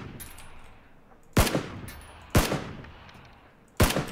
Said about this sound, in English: I guess we're just gonna keep shooting at him